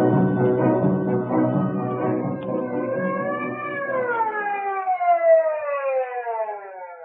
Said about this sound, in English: Twenty minutes later, the ambulance arrived.